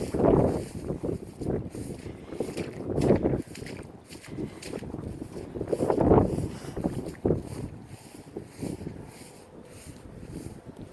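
A fresh breeze blows through a sunny Texas garden, coming as irregular gusts of wind buffeting the microphone, rising and falling loudly across the stretch.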